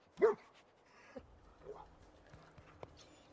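Dogmeat, a Commonwealth mutt companion in Fallout 4, gives one short loud bark near the start, then softer whimpers and small yips follow, with light footstep-like taps in the background.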